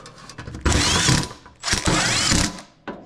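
Screws are driven into a sheet-metal ductwork 90 fitting with a power driver, giving two loud, close whirring bursts of about a second each, separated by short pauses and small clicks.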